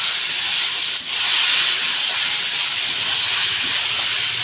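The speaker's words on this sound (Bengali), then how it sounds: "একটু মশলাটা কষিয়ে নেব।" Salt, chilli and turmeric being fried in a pan, giving a steady, close, bright sizzling hiss that holds for several seconds with no voices.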